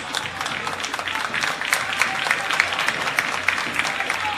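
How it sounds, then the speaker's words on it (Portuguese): A stadium crowd applauds Everton as he is substituted off during Ponte Preta versus Primavera, a steady wash of distant clapping and crowd noise with a faint voice underneath. "O Everton sai aplaudido."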